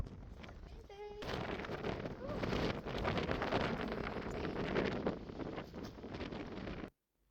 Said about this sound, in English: it was super windy and I didn't think that would be appreciated